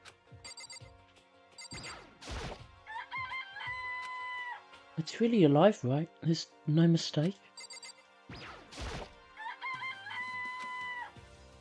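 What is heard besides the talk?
chicken crowing and clucking in video game Danganronpa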